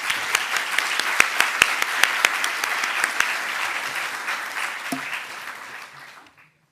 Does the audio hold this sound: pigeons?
no